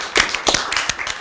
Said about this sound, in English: she clap for Leslie Ann.